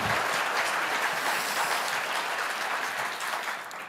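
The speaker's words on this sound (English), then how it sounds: "Let's have a huge round of applause for Bill Allen, President and CEO of the LAEDC" An audience at an economic forecast event gives sustained applause, a full steady patter of clapping that tapers slightly at the close.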